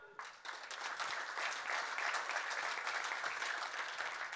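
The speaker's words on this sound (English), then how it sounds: "Not such a big applause." Applause from an audience at an international hockey federation congress, a steady wash of clapping from many hands lasting several seconds, moderately distant and fairly even in loudness.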